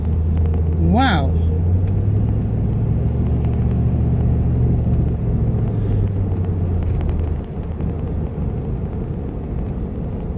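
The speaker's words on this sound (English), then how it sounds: "This bus just swung out without any warning." A bus swings out onto the road with a loud, steady low engine rumble close by, mixed with traffic noise and a brief rising tone near the start.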